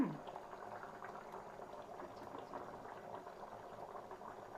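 Fish curry with tamarind water simmering under a lid, giving a steady, soft bubbling boil that runs unbroken throughout.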